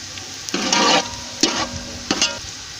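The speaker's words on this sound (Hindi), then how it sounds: "गरम मसाले की भी अच्छी सी भुनाई कर लेंगे ताकि ना चावलों में अच्छी खुशबू आए।" Whole garam masala roasting with browned onions in a pan for chana pulao, heard as three bursts of hissing sizzle as a spoon stirs and scrapes, over a quieter steady fry.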